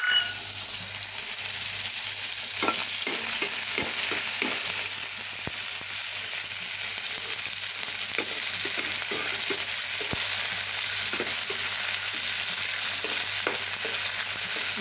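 Prawns fry in hot oil with green chilli and nigella seeds, giving a steady close sizzle and hiss broken by intermittent clicks and scrapes of stirring.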